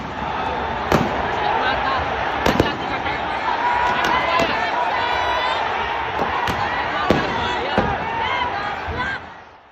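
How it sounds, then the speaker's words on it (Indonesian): Sharp, loud tear gas launcher shots go off repeatedly, about ten over several seconds, irregularly spaced, above a dense, roaring crowd at Kanjuruhan stadium. "Ada 11 tembakan dilakukan Brimob pada fase awal ini."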